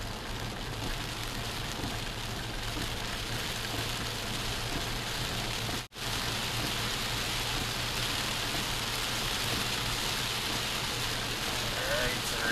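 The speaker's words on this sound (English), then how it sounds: "the rain start back here so again now" Heavy rain in Jamaica: a dense, steady roar of rain pours down continuously with a low rumble beneath, briefly cut off once, with no clear voices over it.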